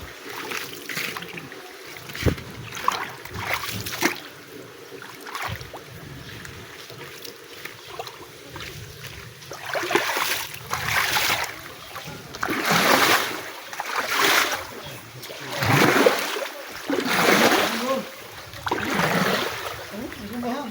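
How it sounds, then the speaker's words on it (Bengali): Rainwater runs and splashes through a street blocked with piled-up garbage after a rain shower, a continuous trickling rush with surging splashy swells, close by, with people talking over it at times. "এই পানি কত সাউন্ড গাইছে"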